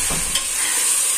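Onions, tomatoes and green chillies fry in a pan for an egg and soya chunk biryani, giving a steady, close hiss of sizzling oil with a faint stir at the start.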